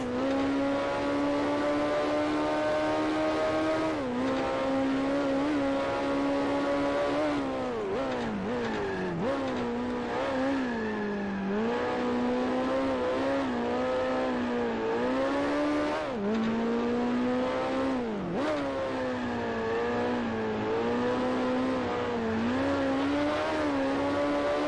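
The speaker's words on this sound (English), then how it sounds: "Almost over revving the car." Race car engine in Grand Prix Legends racing at Hethel, revving high and continuous with pitch rising and falling through gear changes and corners, loud and steady throughout with no talk.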